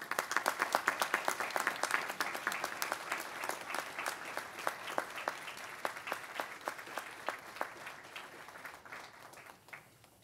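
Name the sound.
graduation audience applause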